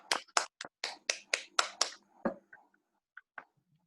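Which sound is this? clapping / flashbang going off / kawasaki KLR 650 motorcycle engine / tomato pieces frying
clapping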